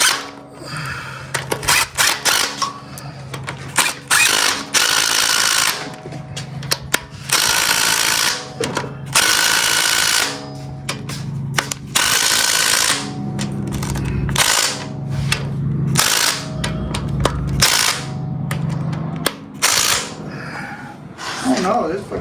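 An impact gun removes bolts during a 460 gas to 7.3 diesel engine swap, with many short rattling bursts of hammering separated by brief pauses, close and loud, with people talking between bursts.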